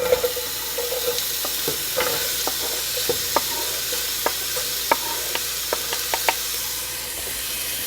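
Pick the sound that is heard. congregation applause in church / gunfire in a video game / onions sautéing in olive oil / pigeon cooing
onions sautéing in olive oil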